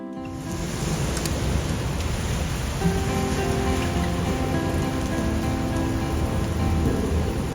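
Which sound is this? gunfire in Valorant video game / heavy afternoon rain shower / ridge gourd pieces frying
heavy afternoon rain shower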